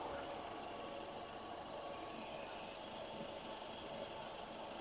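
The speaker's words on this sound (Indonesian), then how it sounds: "Suara mesinnya masih halus gitu." Engine of a Mazda Biante running steadily at idle, a smooth, even and fairly quiet hum with no obvious knocking.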